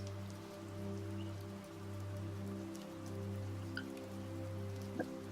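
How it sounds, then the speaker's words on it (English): Steady rain with individual drops striking a surface, heard throughout at an even level beneath a low sustained tonal drone, with an occasional louder drip standing out near the end. "And hearing each raindrop"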